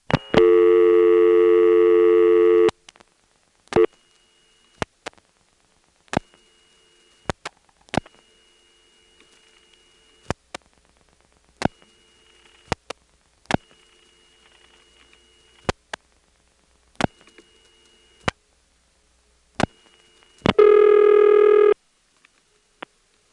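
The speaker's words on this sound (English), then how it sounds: "Here's a local ringing number dialed with all 7 digits." Telephone call through a 1978 GTE NX2 crossbar exchange in Hahira, Georgia: a short tone burst, a rapid run of dialing clicks for seven digits, then a steady ringback signal repeating in spaced bursts, with no voices.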